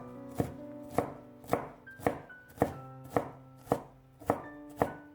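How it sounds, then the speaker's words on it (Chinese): Knife dicing green bell pepper on a cutting board, ten evenly spaced crisp chops with a steady rhythm, close and clear with no talking. "接下来准备一个青椒，先切成细丝，再改刀切成小丁"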